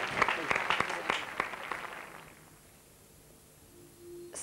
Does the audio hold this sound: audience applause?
yes